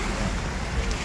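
Floodwater and mudflow rush across a road near the entrance to Dushanbe, a steady loud roaring wash that runs without a break, mixed with wind buffeting the microphone.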